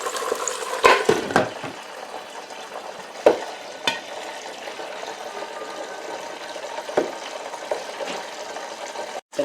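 Peruvian cancha corn kernels toast in a pan while being stirred, giving a steady light sizzle with scattered scraping and clattering of kernels up close; no speech.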